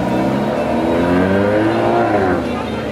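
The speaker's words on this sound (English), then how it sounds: "It really sounds good. Has the Mercedes Sport exhaust." A Brabus edition Mercedes G63 G-Wagon V8 with the Mercedes sport exhaust rumbles loud and close at a car meet, holding a steady deep drone with a slight rise in pitch before easing off.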